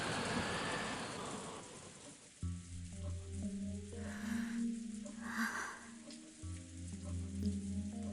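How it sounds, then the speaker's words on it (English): Faint rain and wind in the Umineko visual novel, a soft hiss of rainfall that fades from the opening and is then mostly covered by a steady background music track; no talking. "listening only to the wind and the rain"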